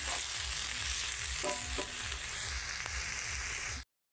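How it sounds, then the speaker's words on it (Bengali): Vegetable fritters sizzle steadily in hot oil in a pan, a close, even crackling hiss with a few faint utensil clinks partway through. "এই যে এখানে আমার বড়া ভাজা হয়ে গেছে"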